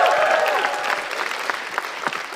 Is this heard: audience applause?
yes